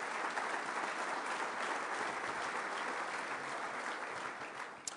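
Faint but steady applause from an audience honoring a board of directors, continuous clapping that tapers slightly at the end.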